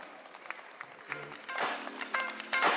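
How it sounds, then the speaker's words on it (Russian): Spectators at a basketball game between Unics Kazan and Promitheas, during the Gomelsky Cup, clap in scattered bursts that grow denser, mixed with arena noise and a sustained tone, fairly faint overall. "Ваши аплодисменты."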